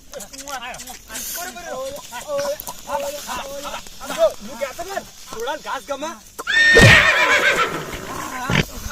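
A horse gives one loud, close whinny near the end, after people talk for most of the clip.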